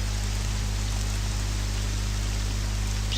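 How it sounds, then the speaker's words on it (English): Steady rain falls in Morrowind, a dense, constant hiss of drops with a low hum underneath, even and unbroken throughout with no voices. "Yeah, it's raining."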